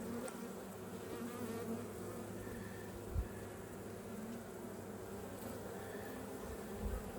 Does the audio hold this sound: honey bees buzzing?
yes